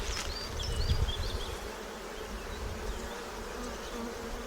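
Honeybees drone around an open hive, a dense continuous buzz with individual insects whining past close to the ear.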